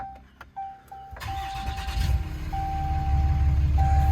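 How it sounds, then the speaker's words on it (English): Push-button start of a lifted, tuned 2013 RAM 2500 Laramie Longhorn Cummins diesel with a 4-inch turbo-back exhaust: chimes and a few clicks, then the engine cranks and catches into a deep, loud, rumbling idle while a warning chime keeps sounding. "As soon as I start it up, besides the sunlight in my way, push button start"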